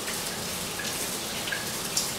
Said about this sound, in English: Rinse my hands again.